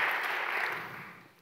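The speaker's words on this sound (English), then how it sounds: "please feel free to applaud" Brief audience applause at a panel discussion, a soft, distant patter of clapping that fades away within a second or two.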